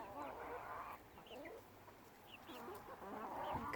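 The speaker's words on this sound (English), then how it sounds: "I think that's a cockerel." Chicken calls from a backyard flock of young garden chickens, likely a Welsummer or black Copper Maran cockerel, with soft clucks and short chirps over steady outdoor background noise and no talking.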